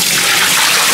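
Running water rinses out an old Le Creuset enameled cast-iron pot being reconditioned, a loud, steady close-up wash of splashing and pouring for a brief moment.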